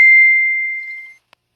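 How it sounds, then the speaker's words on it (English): A single bright phone notification ding rings out clearly in a quiet room, its clean tone slowly decaying over about a second, followed by a faint tiny click. "I did not turn the sound off on my phone."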